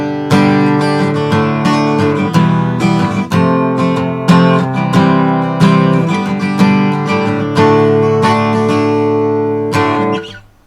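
Gibson CSR acoustic guitar with a solid spruce top, rosewood back and sides, strung with Elixir strings, strummed loud and close with ringing chords, no voices.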